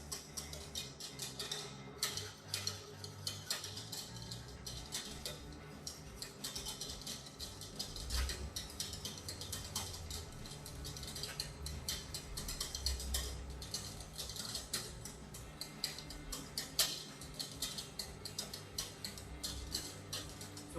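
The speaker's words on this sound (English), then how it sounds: "Constantly whisking it up." A whisk ticks steadily against a pot, stirring egg custard thickened with cornstarch, a faint, continuous rapid clicking that runs unbroken, with no talk.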